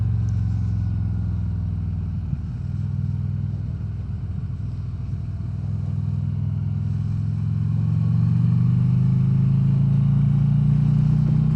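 Steady low rumble of road traffic around a 2015 Harley-Davidson Street Glide Special with a Twin Cam engine, engine drone continuous and rising slightly toward the end, no talking.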